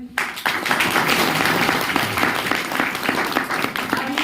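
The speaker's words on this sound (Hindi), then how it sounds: "जोरदार ताली होनी चाहिए" Loud, sustained applause from a meeting audience fills the whole stretch, dense hand clapping without any break or speech over it.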